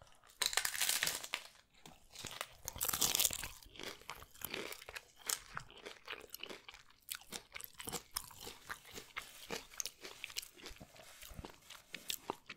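Close, crisp crunching and chewing of a Taco Bell Taco Supreme, the shell cracking with each bite amid wet mouth sounds and faint wrapper crinkles, with no talking.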